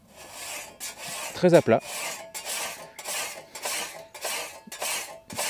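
A metal file is drawn along a scythe blade to hone the edge, giving repeated close rasping strokes in an even rhythm. A short burst of louder scraping comes early, and a voice speaks briefly over the filing.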